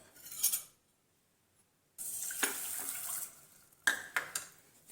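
Half a cup of water poured into a pan for coffee sugar syrup: a brief splash, a short silence, then a steady pouring rush for over a second, followed by a few faint clinks and small splashes, with no talking.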